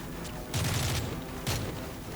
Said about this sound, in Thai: ใครยิงมายิงมาจากข้างล่างนะครับ